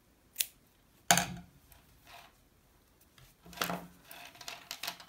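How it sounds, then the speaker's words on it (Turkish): Scissors snipping knitting yarn after a baby vest is finished: a couple of sharp, close metallic snips, the second louder, followed by soft handling rustles of the yarn and work. "İpi kesiyorum."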